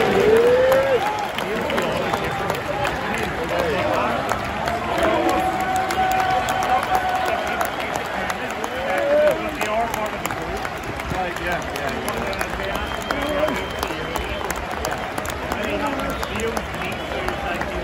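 Football crowd applauding as Leyton Orient players clap the fans at their home stadium before a League Two match against Crawley; a steady, busy roar of clapping and crowd noise fills the whole stretch, with talk over it.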